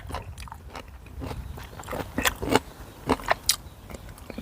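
Someone bites and chews a Thai som tam papaya salad made New Zealand style, close by, giving scattered crunchy bites and wet chewing clicks that grow louder toward the end, with no talk.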